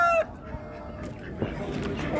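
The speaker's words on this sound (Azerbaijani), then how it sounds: "Və bu Avstraliyal xoruzları." Australian roosters for sale at a poultry bazaar in Ganja: a loud crow opens the clip, then scattered clucks and fowl sounds amid market noise and voices.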